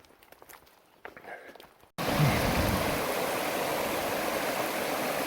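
A mountain creek in Utah rushes in a loud, steady broadband wash, starting abruptly after a quieter stretch of faint footsteps and shuffling, then flowing continuously up close.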